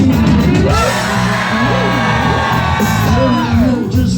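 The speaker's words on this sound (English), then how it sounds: "Everybody scream!" A packed concert crowd at the Whisky A Go-Go in LA screams, whoops and yells loudly and continuously at an anniversary show, with rising and falling shouted voices merging into a dense roar.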